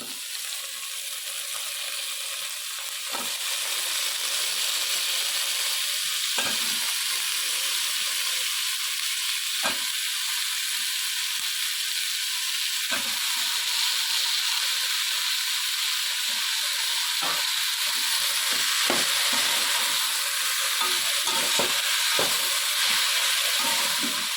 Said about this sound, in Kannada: ಈರುಳ್ಳಿ ಎಲ್ಲ ಫ್ರೈ ಆದಮೇಲೆ ತೊಂಡೆಕಾಯಿ ಕಟ್ ಮಾಡಿರೋದನ್ನ ಹಾಕ್ಕೊಳ್ಳೋಣ